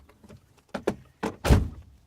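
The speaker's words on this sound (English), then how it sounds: "dive for the release, hit it, and go for the door latch" A car seatbelt release clicks and a door latch opens in a quick sequence of close, sharp thunks, ending with a heavier clunk.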